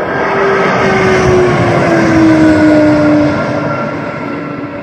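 A Mitsubishi Regional Jet prototype arriving and taxiing at Moses Lake airport, a loud, close, continuous jet-engine roar with a steady high whine that slowly shifts in pitch.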